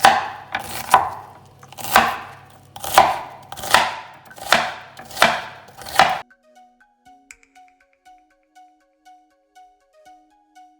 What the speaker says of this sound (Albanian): Vazhdojmë me ngrirjen e qepës, pra do t'i bëjmë në kubik të vegjël